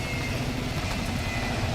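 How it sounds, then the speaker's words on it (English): An onboard race car engine drones steadily and close during a wet Serbian Grand Prix race round, a continuous rough roar with no pauses over the short stretch. "And it lets you hear the engine quite nicely as well."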